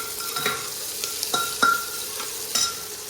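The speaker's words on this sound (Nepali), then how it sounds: "यता चाहिँ मासु भुट्न लागेको छु" Goat meat fries in hot oil in a home kitchen with a steady, loud sizzle, broken by several sharp scraping strokes as it is stirred around the pan.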